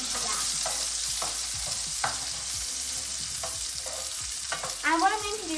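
Chicken adobo sizzling in a hot pan while being stirred, a steady crackling hiss with repeated scraping strokes of the utensil and a louder scrape near the end.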